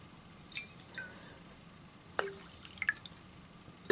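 Coffee solution dripping into clean water: a few faint drops, then a sharp clear plink and scattered small splashes in a quiet setting.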